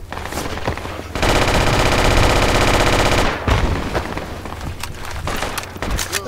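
Sustained machine-gun fire in the military shooter Project Reality, a loud rapid automatic burst lasting about two seconds, followed by scattered distant shots and battlefield noise.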